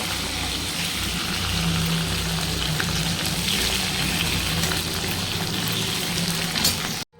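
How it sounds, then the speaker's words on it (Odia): Fish frying in a pan of hot oil, a steady dense sizzle and bubbling hiss filling the whole stretch, close and loud with no talk, cutting off abruptly at the very end. "ବର୍ତ୍ତମାନ ସବୁ ମାଛ ଗୁଡ଼ିକ ମୁଁ ଭାଜିଦେଲି, ସବୁ ଗୁଡ଼ିକ ସବୁ ଭଜା ହେବ।"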